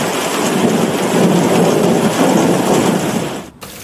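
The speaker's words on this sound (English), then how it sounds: "Loud thunder booms continuously reverberated across the sky." A heavy thunderstorm with a loud, sustained rumble of thunder over steady pouring rain, filling the space with continuous roar before cutting off abruptly near the end.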